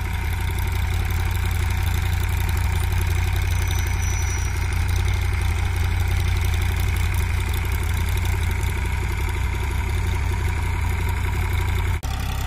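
A Massey 245 tractor, 2020 model with a 50 HP engine, pulls a trolley loaded with 122 sacks of potatoes, its diesel drone loud, close and unbroken under a constant low rumble.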